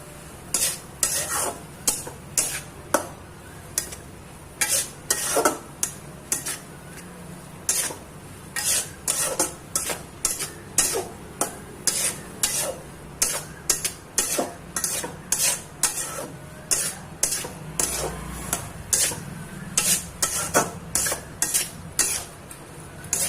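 Spring roll vegetable stuffing with vinegar is stir-fried in a pan, with a fast, repeated clatter of a utensil scraping and tossing over a low sizzle, close and continuous.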